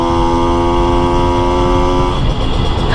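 Modified Yamaha RX 100 motorcycle revving hard as it pulls through first and second gear, a loud, close, steady buzzing two-stroke engine tone that shifts pitch near the end.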